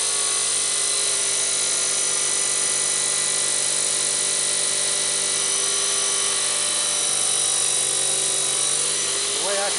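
A Chicago Electric 14-inch metal cut-off saw cuts through hardened steel, a loud, continuous, high-pitched grinding whine that holds steady and close throughout.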